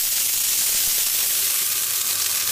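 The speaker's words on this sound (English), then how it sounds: "So you can choose how dry you want the steam to be." An espresso machine's steam wand hisses steadily and loudly at close range, a dense continuous rush of steam with no talk over it.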